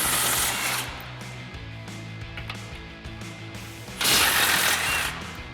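Ratchet with an 18mm socket backing off the two lower strut mounting nuts on the knuckle of a 2004-2025 Ford F-150, a steady whirring, clicking run with louder bursts at the start and end, close up with no talking.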